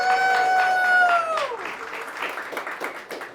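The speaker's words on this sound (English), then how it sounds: "We're all gonna cheer really, really loud" Crowd at a Friday afternoon Pi Day gathering claps and cheers, a whooping voice rising over it at first and then fading, leaving scattered applause that thins toward the end.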